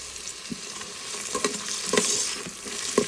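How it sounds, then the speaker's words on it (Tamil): Chopped vegetables and beetroot sautéing in a pan for vegetable kurma, a steady close sizzle broken by several scraping stirs of the spoon, with no talk. "இதில் வெட்டி வச்ச வெஜிடபிள் எல்லாம் போட்டு போகிறேன். இது பீட்ரூட், இதை ஒரு 2 நிமிஷம் வதக்கிக்கலாம்."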